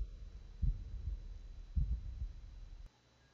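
A slow, muffled heartbeat from the video game The Room, two soft double thumps in steady rhythm over a low hum before it cuts to near silence.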